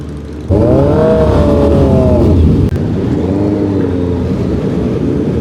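Several Honda CB650R motorbike engines roar and rev close by, rising and falling in pitch as they pass, a continuous loud drone with no talking.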